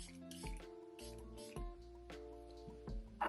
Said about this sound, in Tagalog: magsisetting spray na tayo.